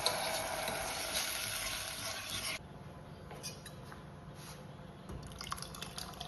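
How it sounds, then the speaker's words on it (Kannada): Water with vermicelli simmering and gently bubbling in a pan for hesarubele payasa, a Kannada sweet dish; a steady close liquid bubbling and stirring sound, louder for the first part and then softer. "ಇದಕ್ಕೆ ಅರ್ಧ ಗ್ಲಾಸ್ ನೀರು ಹಾಕ್ಕೊಂಡು ಬೇಯಿಸ್ಬೇಕು"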